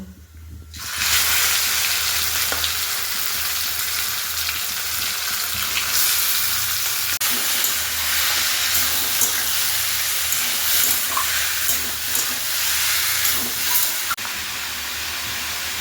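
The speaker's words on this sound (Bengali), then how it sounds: "এবার এর মধ্যে আমি যে লাউগুলোকে জল ঝরিয়ে রেখেছিলাম সেগুলো আস্তে আস্তে এর মধ্যে আমি দিয়ে দেব।" Drained, grated bottle gourd hits hot oil tempered with five-spice in a Bengali kitchen, bursting into a loud, sustained sizzle and hiss that crackles steadily throughout, close up with no talking.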